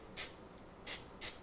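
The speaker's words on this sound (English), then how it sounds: "really lightly spray that. You don't want to use a lot of this stuff, but I just use the nonstick cooking spray" Nonstick cooking spray hisses in three short, light bursts into a 9-inch pie pan, close by and fairly quiet.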